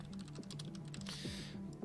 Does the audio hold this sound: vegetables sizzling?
no